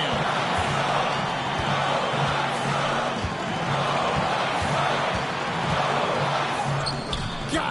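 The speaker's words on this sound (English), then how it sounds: "you could feel the crowd react as one" A basketball arena crowd roars after a game-tying basket, a dense, loud, sustained wall of cheering and yelling that swells and holds steady throughout, with occasional sharper shouts poking through.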